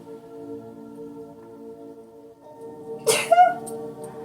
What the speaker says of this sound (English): Do not talk about my sneeze, okay?